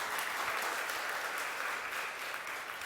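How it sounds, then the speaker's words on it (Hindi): Steady, even clapping from a seated crowd at a devotional religious discourse, a soft continuous wash of hands with no voices rising above it. "अब बजाओ ताली"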